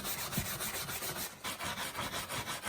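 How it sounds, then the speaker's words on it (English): Pink Stuff cleaning paste is scrubbed over dirt and grime on a boat in quick back-and-forth rubbing strokes, close and continuous with a brief pause midway, no talk. "Going to use a little bit of pink stuff to get the harder to manage dirt and grime off it."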